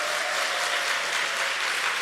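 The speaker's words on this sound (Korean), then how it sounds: "우리 목사님이 힘내라고 박수 한번 주세요." A church congregation gives dense, steady applause during a Korean afternoon worship service. The clapping is loud and continuous throughout and fills the hall.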